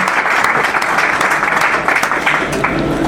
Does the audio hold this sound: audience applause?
yes